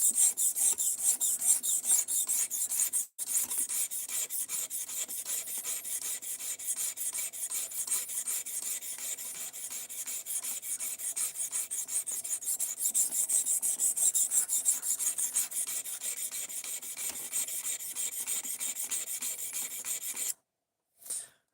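A knife is sharpened with newly acquired equipment, a steady rhythmic rasping and scraping that carries on with brief pauses near the start and end, no talking.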